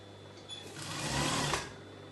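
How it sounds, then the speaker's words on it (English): A sewing machine stitches fabric for a circle skater dress, a steady close whirring hum that swells in the middle and then tapers off. "I think it's sewing now."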